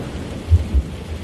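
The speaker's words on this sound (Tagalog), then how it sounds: "Tanging tunog lang ng ulan ang naririnig." Steady rain hiss with two low, muffled thunder rumbles close together, deep and soft, with no voices.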